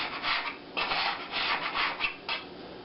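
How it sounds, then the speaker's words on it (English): Swedish tea ring dough kneaded by hand on a floured table, a soft repeated rubbing and pressing in steady strokes of a few pushes, close and moderately loud with no talking. "Now I'm going to knead this for about 10 minutes"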